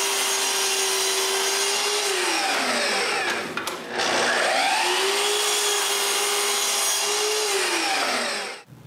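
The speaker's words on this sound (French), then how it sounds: "Maintenant que j'ai un côté droit, je peux faire la première coupe." Power saw cutting a board of walnut wood in a workshop, a close, loud motor hum that drops in pitch as the blade bites through, in two cutting passes, with a brief pause between and a sharp stop at the end.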